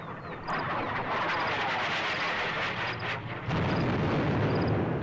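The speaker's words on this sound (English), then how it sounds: "Let's fire some illumination rounds over here." Artillery rounds firing and exploding in the Squad Battles Dien Bien Phu war game, a sustained rumbling roar of blasts that surges louder midway, with faint high chirps on top.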